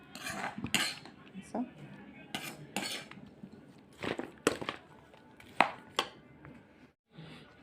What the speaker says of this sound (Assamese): এইখিনি লাহে লাহে সিহঁতৰ লগত মানে নেমুখিনিৰ লগত মিক্স কৰি আছোঁ।